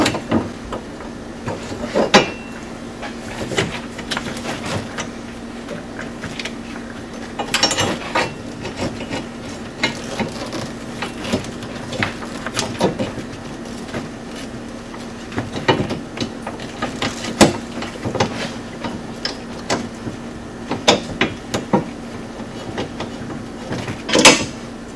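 A ratchet tightens bolts on a new shifter bracket in a RZR 900S, giving repeated short rasping clicks in irregular bursts over a steady low hum.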